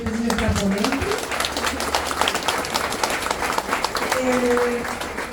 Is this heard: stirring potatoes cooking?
no